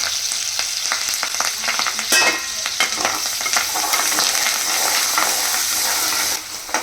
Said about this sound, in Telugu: ఒక పెద్ద సైజు ఆనియన్స్ కట్ చేసుకొని వేసుకోవాలి. అలాగే కరివేపాకు.